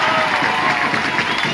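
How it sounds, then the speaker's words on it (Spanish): A large crowd at a political rally in Durango claps and cheers in a continuous, loud wash of sound. "Un aplauso para el pueblo de Durango."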